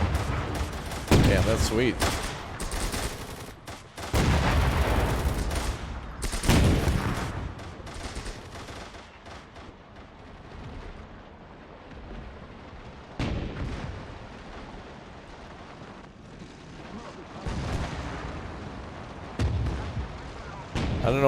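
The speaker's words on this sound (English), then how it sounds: "Flak 88. Beautiful. Look at those gun animations." A Flak 88 anti-aircraft gun fires in the World War II strategy game Gates of Hell, deep booming blasts recurring every few seconds amid battlefield gunfire, with someone talking briefly over the action.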